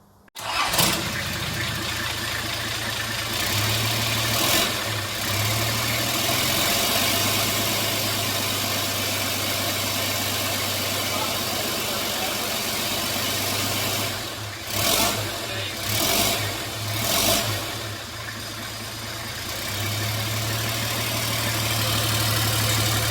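Nissan GQ Patrol's TD42 turbo diesel engine starting and settling into a steady idle after a turbo install, with a few blips of revving midway, close and loud throughout.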